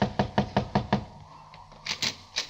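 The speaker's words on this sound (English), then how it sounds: "Knock again" A radio-drama door knock: seven quick, evenly spaced raps followed by a shorter cluster of three, crisp and close in an otherwise quiet room.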